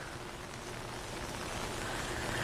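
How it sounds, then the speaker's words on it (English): Rain falls steadily in Kansas City streets, a dense even hiss that swells slightly toward the end, with no voices. "Obviously not going to be too many cyclers out today with the rain we're experiencing"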